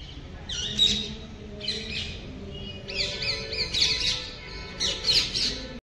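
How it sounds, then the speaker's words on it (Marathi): A flock of parrots squawks in trees at the Salangpur temple, with repeated loud, raspy screeches arriving in overlapping bursts a second or so apart. "पोपट बघा इथे किती आहेत."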